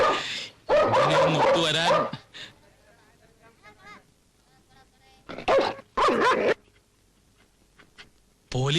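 Police dogs bark in sharp, loud bursts, first in a cluster of yips and barks, then again after a pause, with quieter rustling between and a brief spoken word.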